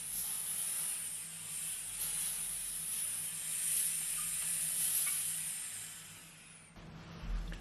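A handheld steamer hisses steadily while it steams the back of drapes. The hiss is soft and continuous for several seconds, then drops away with a faint knock.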